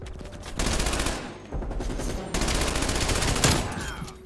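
A PPSh submachine gun with a loud pipe blueprint fires in Call of Duty Cold War: rapid, loud automatic bursts, a short one, a second, then a long sustained stream of fire with brief gaps between them.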